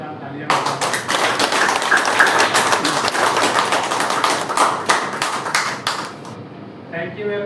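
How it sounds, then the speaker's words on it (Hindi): An audience at a speech event claps loudly for themselves, a dense sustained burst of applause lasting several seconds before tapering off, with a voice returning faintly at the end. "मैं चाहूँगा कि आप सभी लोग एक बार अपने लिए जोरदार तालियां बजाएं।"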